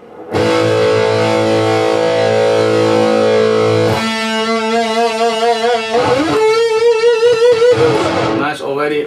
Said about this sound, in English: I'm now adding the virtual guitar amp called